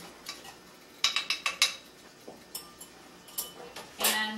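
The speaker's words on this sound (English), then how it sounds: "Stir it just a little bit." A utensil stirs couscous in a pot on the stove, making a run of quick metallic clinks and scrapes in bursts, close and fairly quiet, with no talking.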